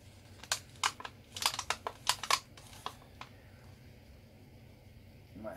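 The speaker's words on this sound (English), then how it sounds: "Sorry about the scraping noise" Resin colour being scraped out of a cup while making coasters: faint, short scratchy bursts cluster in the first three seconds, then fade to near quiet.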